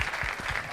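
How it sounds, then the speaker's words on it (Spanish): A brief, steady patter of audience applause fills a hall at a 2013 technology symposium talk, lasting under a second at moderate volume. "Creo que mereces un aplauso también"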